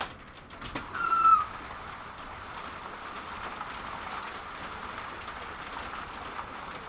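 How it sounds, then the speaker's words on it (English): Hail and rain falling outdoors during a California thunderstorm, heard as a steady, faint hiss of patter behind a closed window, with a brief louder swell near the start. "Rain, thunderstorm, and hail."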